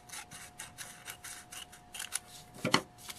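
Scissors snipping through folded paper for a paper bead Christmas tree craft, a quick run of sharp, rhythmic cuts close up and fairly soft, ending in a slightly louder snip.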